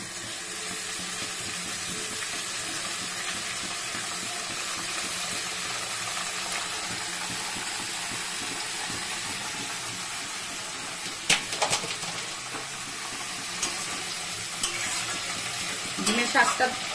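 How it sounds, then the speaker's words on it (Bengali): Gima greens stir-fried with potatoes in a kadai, a steady broadband sizzle with soft scraping of stirring throughout, a few louder clatters near the end. "ভাজা হয়ে গেছে, এখন আমি গিমে শাকটা দিয়ে দিব কড়াইতে।"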